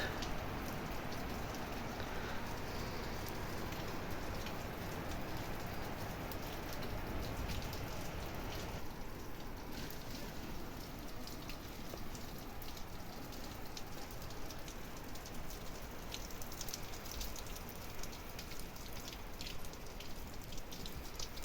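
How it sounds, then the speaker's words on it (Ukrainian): Steady rain falls continuously in a garden setting with flowering plants, a dense even patter of drops on surfaces lasting throughout at constant moderate loudness, with no voices. "Дощ"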